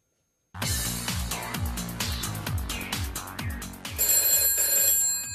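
Old-style telephone bell ringing in rapid repeated bursts, loud and close, starting abruptly after a moment of silence and continuing in a steady rhythm with a brighter electronic tone joining toward the end.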